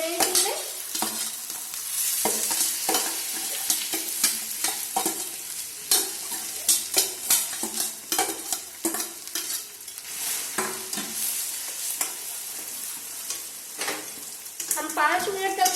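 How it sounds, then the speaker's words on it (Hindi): Boiled potatoes fry and get stirred with masala in a pan for a samosa filling, with continuous sizzling under repeated scraping and stirring strokes of a spatula, close and steady throughout. "हम 5 मिनट तक तो पहले हम आलू को फ्राई करेंगे"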